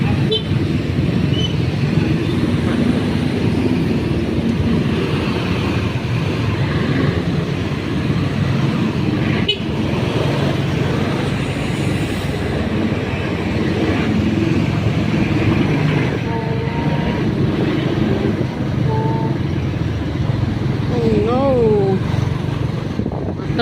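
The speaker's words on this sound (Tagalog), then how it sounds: "Traffic guys, this is life because the traffic is always there" Steady, loud road traffic in Pasig City, a continuous wash of engines and tyre noise with a few faint horn-like tones near the end; people talk over it.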